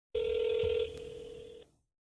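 A phone call being placed inside the mobile game Grand Summoners: a steady electronic tone holds alone for about a second and a half, then ends.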